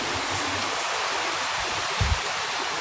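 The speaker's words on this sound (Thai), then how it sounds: "อยู่ดี ๆ ฝนตก" Sudden rain pours down in a steady, dense hiss, close and fairly loud, with a couple of brief low thumps near the end.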